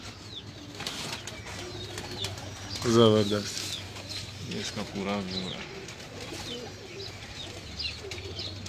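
Pigeons cooing on a Lahore rooftop, soft throaty coos rising near the middle and again a little later, with men chatting nearby throughout.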